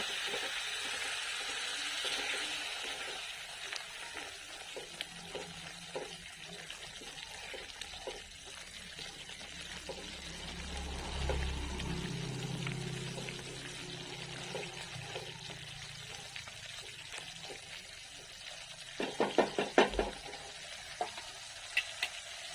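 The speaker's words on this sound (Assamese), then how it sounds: "এতিয়া ইয়াতে দি দিম গৰম কৰি থোৱা পানী।" Hot water is poured into spices frying in a pan for pork dry fry, giving a soft hiss and bubbling sizzle, quiet and close, with a few clinks near the end.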